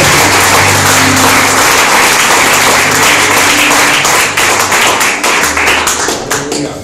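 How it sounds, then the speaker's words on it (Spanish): Loud applause fills a church congregation during a sermon, dense and continuous with a low sustained hum underneath, thinning slightly toward the end. "den un fuerte aplauso al Señor, que Él se lo merece"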